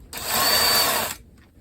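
A power drill pre-drills a hole in wood while shelves are assembled, one steady high whine of about a second that starts and stops abruptly, close and loud.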